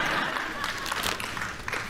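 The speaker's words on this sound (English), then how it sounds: "they couldn't even fucking clap that much for him saying that inflation is coming down" Audience applause from a political speech plays back: a thin, moderate patter of clapping hands, steady and somewhat distant, with a few louder individual claps standing out.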